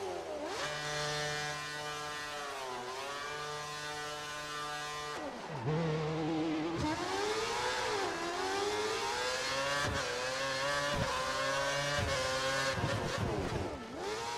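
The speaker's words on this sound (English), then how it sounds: "When the lights go out, pull away and drive the lap using all the techniques you've learned so far." An F1 car in the F1 2013 game pulls away from a race start, its high-pitched engine revving up through repeated gear changes, loud and close, with rising and dropping pitch sweeps and no talking.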